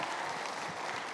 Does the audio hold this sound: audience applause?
yes